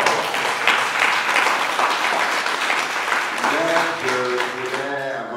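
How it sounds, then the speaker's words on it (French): An audience applauds loudly and continuously, a dense wash of clapping; near the end a voice begins talking over the fading applause. "Acclamez le très très fort."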